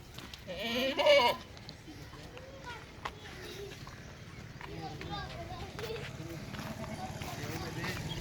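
Goats for Bakrid bleat amid a busy outdoor goat farm scene, with a person talking over them and scattered rustling and movement nearby.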